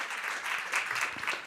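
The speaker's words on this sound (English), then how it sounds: "Please give her a round of applause as she comes." A conference audience applauds as a panelist is introduced, a steady wash of clapping from many hands at moderate distance, with no voices over it.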